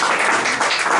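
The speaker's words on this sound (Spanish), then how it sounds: "Podemos dar una fuerte ofrenda de palmas a nuestro Dios." Church congregation giving a strong round of applause, dense and steady clapping filling the room for a short burst with no voices over it.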